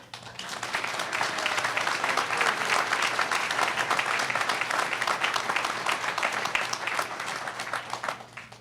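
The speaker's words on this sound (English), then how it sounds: "So one more real big round of applause for all of our speakers" Sustained audience applause for a panel of speakers at a debate on Alaska's fiscal options, a dense, steady wash of many hands clapping that lasts the whole stretch at even loudness before tapering at the end.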